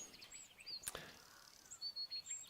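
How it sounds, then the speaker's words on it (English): Birds singing outdoors, scattered high chirps and short whistled phrases at a distance over quiet background, with one brief sharp noise partway through. "Hello, birds."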